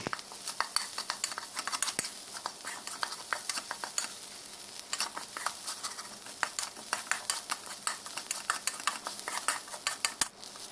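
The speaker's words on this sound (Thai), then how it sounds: "นำข้าวลงไปผัดได้เลยครับ" Rice with pork stir-frying in a hot pan, a steady crackling sizzle with busy scraping and stirring strokes throughout, close and fairly loud, no voices.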